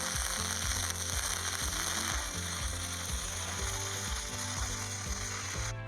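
MMA stick arc welding a bead with the amperage set too high, 100 A instead of 70, a loud continuous crackling, buzzing sizzle with a steady pulsing hum underneath, close and uninterrupted throughout.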